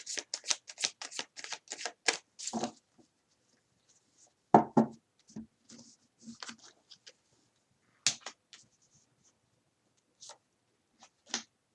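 Tarot cards being shuffled for a reading, a flurry of rapid crisp riffling flicks at first, then scattered softer slaps and taps with near silence between, close and fairly faint.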